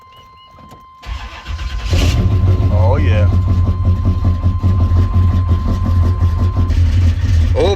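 An 1984 Monte Carlo engine cranks and catches, then settles into a loud, steady idle around 900 rpm close by, with someone briefly speaking over it.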